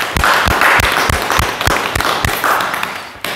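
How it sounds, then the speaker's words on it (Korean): Audience applause at a talk, a loud, steady patter of many hands with a few sharper claps landing in a rough, regular rhythm over about three seconds. "큰 박수 부탁드립니다."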